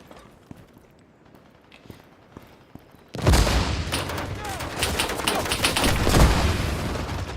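Quiet scattered pops give way to a sudden loud burst of rapid gunfire and explosions from grenades in a Cold War multiplayer shooter, sustained heavy firing that continues to the end.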